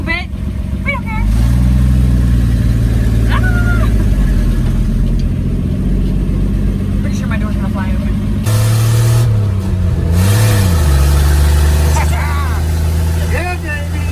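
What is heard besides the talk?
old Ford F100 truck engine revving while driving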